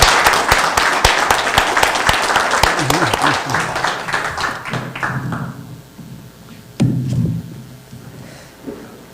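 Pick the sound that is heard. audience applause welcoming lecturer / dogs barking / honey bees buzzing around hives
audience applause welcoming lecturer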